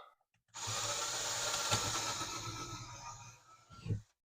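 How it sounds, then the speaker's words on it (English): A power drill whirs steadily for several seconds drilling a pilot hole, bites through material, then winds down with a brief final burst before stopping. "And then I'll drill a pilot hole."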